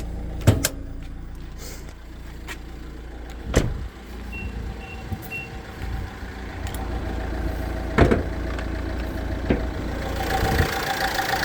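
A 2015 Nissan Qashqai 1.6 diesel idling with a steady low engine hum, broken by occasional clicks and knocks close by.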